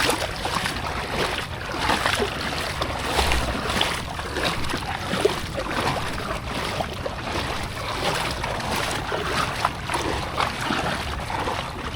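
A fishing boat's engine idles and warms up out on the water, a steady loud rumbling drone with splashing and watery wash around it, continuous throughout with no clear talk.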